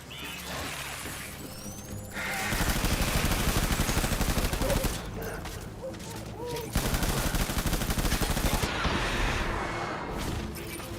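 Video-game gunfire pouring bullets into a wall, sustained bursts of rapid automatic fire with crackling impacts, loud and close, with brief pauses between bursts.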